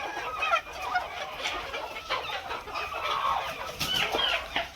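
Free-range village chickens cluck and murmur continuously while pecking at fish waste, a busy flock of soft, overlapping calls nearby.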